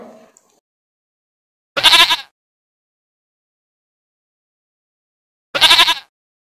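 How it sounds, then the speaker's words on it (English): A goat bleats twice, loud and close, each call a short wavering cry separated by several seconds of silence. "G for goat"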